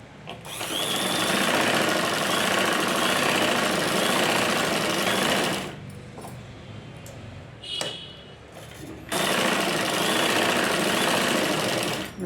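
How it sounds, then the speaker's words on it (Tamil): A sewing machine stitches close along the edge of a blouse lining in a loud, continuous whirring run. It pauses for a few seconds with faint handling sounds, then starts stitching again. "இப்போ இதை நல்லா ஓரத்தில் ஸ்டிச் பண்ணிக்கோங்க"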